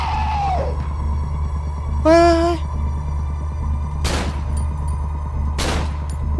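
Gunfire in the horror game Cry of Fear: two sharp broadband bursts ring out a couple of seconds apart over a low droning background, with a voice crying out briefly just before them.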